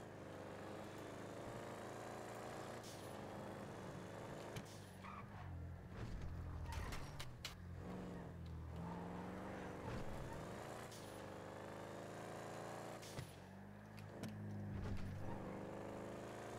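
A car in GTA Online drives along with a steady engine drone throughout, rising and falling in pitch, while people talk over it at moderate level.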